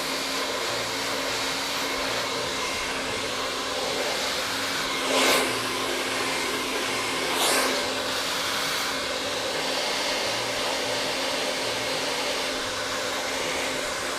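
A hair dryer fitted with a nozzle blows a steady, loud, even whoosh while drying curly hair, with two brief swells in airflow partway through and no talk.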